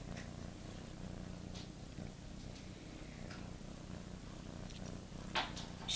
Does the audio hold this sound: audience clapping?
no